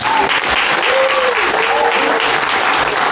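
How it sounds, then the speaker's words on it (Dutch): Audience applause at a poetry performance in the Netherlands, a dense continuous roar of many hands clapping at full volume, with a few cheers and whoops rising above it. "Dus applaus voor jezelf"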